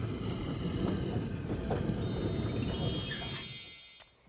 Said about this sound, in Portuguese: Você deve ter notado aquele barulho que os trens fazem quando passam pelos trilhos?